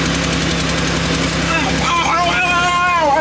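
The Electric Goober vehicle's engine idles loud and close with a steady low rumble and faint regular tapping, while a person talks over it in the second half.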